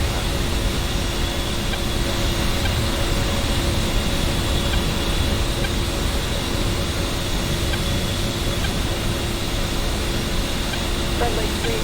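Twin jet engines of an A-10A in the DCS flight simulator run at a steady spooled-up whine over a broad, constant rushing roar, with no rise or fall.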